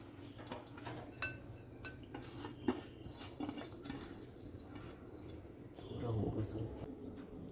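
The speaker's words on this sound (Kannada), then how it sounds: "ಇದನ್ನು ಈಗ ಮಿಕ್ಸ್ ಮಾಡಿ ಈ ಬೌಲಿಗೆ ಹಾಕ್ತೀನಿ." Poha tossed with peanuts and red chillies, a spoon clinking and scraping against a metal vessel in scattered, light taps under a low background murmur while it is mixed and moved into a bowl.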